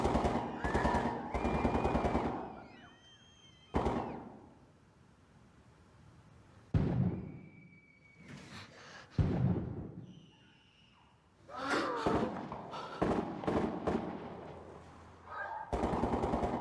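Gunfire from a school shooting video plays in bursts, with sharp repeated shots and rapid automatic volleys separated by quieter gaps, and voices are heard between the shots.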